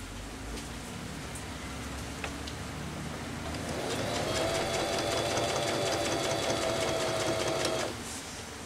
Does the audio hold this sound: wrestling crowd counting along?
no